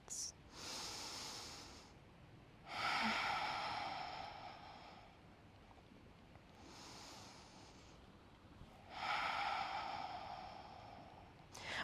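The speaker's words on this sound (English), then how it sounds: "2 more breaths." Slow, deep breaths during a vinyasa yoga practice: several long airy inhales and exhales, each lasting a few seconds, close to the mic and moderately loud, with no talk over them.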